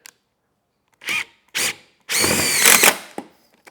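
A power drill driving a screw into an RV end cap: two short whirring bursts, then a longer rising run as the screw seats, close and loud.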